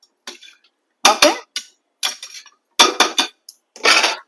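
Fish pieces are shifted around in a pan while cooking fish pulusu, giving a handful of separate scraping clinks and knocks of a utensil against metal, each short and spaced by pauses, close and clear.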